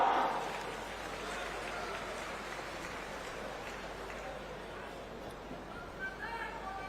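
Distant crowd applause at a political rally in Chhattisgarh, a faint, steady wash of many hands clapping that holds evenly for several seconds with a murmur of crowd noise.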